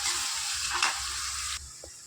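Onions and three green chillies fry in a pan on the way to browning, giving a steady close sizzle with a brief stirring scrape midway before the hiss drops off near the end.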